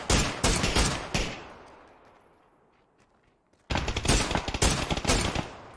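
Rapid bursts of tapped rifle shots in PUBG, a quick string of loud cracks, then a decaying echo and near silence before a second fast volley, with no voices.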